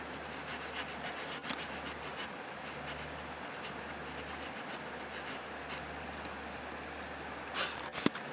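The small saw blade of a Wenger Ranger 78 Swiss Army knife cuts through wood with a continuous, rapid scratchy rasp, close and fairly quiet, steady for most of the stretch with a couple of louder scrapes near the end.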